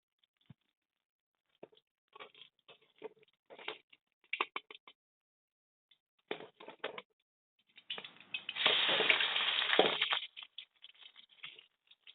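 Turmeric-seasoned fish roe frying in oil, heard as scattered crackling pops in short bursts, then a louder sustained sputtering sizzle that fades back to sparse pops.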